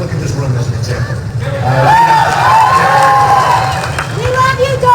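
A large crowd in a packed room at a presidential campaign rally in Reno, Nevada, cheers and shouts, a loud swelling roar with whoops and scattered voices rising above the babble.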